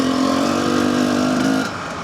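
A rebuilt enduro motorcycle engine runs close by at a steady, buzzy idle with a strong droning tone, then drops slightly in pitch and loudness near the end as the revs settle.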